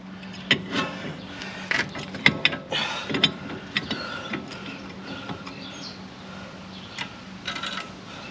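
Mechanical clicks and creaks from compressing the front brake caliper piston on an MK7 Golf GTI Alltrack, a series of irregular close, fairly quiet taps and squeaks with small metallic knocks over a low shop hum.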